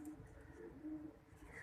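Pigeons coo softly in low, drawn-out, throaty notes, faint and steady against a quiet background.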